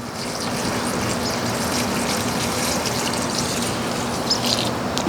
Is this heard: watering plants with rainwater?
yes